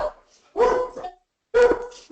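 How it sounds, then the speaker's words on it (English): A dog barks twice indoors, each bark close and sharp, with a short pause between them. "My dog, sir. Must have heard something."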